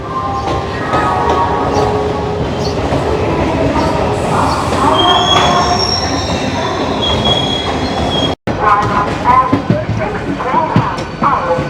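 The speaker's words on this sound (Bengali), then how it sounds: "হাওড়া পুরী বন্দে ভারত এক্সপ্রেসও কিন্তু হাওড়া থেকে ডিপার্ট করছে" Howrah-Puri Vande Bharat Express pulling out of Howrah station: a loud, continuous train rumble with wheel squeal and metallic clatter, close and steady throughout, with a brief dropout near the end.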